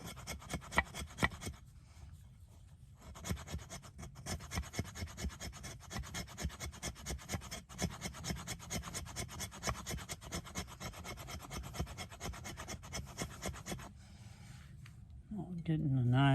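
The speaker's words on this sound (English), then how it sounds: "Getting a nice little bundle of fatwood shavings right there." The 90-degree spine of a Work Tuff Gear Wolverine knife scrapes fatwood into shavings in fast, rhythmic rasping strokes, close and steady, pausing briefly near the start and end.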